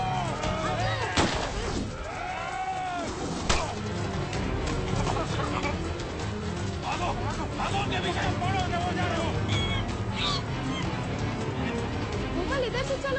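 Gunfire in a scene from the 2010 Hindi film Ramaa The Saviour: sharp shots crack out at intervals, loud and fairly close, over a busy background with voices and movement.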